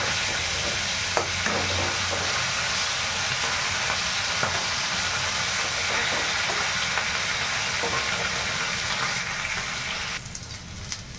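Potatoes fry in a pan for a katla fish curry with vegetables, giving a steady, loud broadband sizzle throughout, with occasional soft stirring scrapes and no voices.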